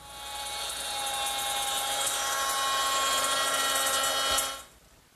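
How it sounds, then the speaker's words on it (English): A handheld router fitted with a 1/4-inch slot cutter grooves the edges of wooden boards, a steady high-pitched whine held for about four seconds before winding down abruptly, close and loud with no talk. "to do that I'm going to use my router with a 1/4-inch slot cutter"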